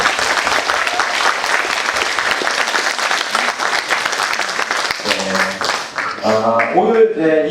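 Sustained audience applause fills a municipal social welfare policy debate for mayoral candidates in Yongin, a dense, steady clapping from a large crowd that thins out near the end as a voice begins to speak over it.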